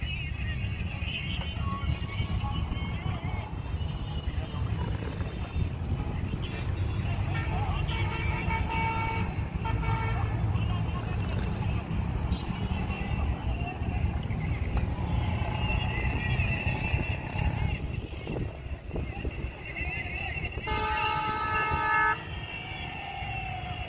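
A train approaches on a railway line in Punjab, Pakistan, its horn tooting over a steady rumble and wind noise, with people talking nearby throughout.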